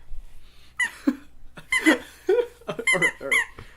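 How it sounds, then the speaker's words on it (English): A squeaky toy squeezed over and over, giving bursts of shrill, wheezing squeaks in an uneven rhythm, loud and close with short pauses between squeezes. "squeaking the squeaky thing"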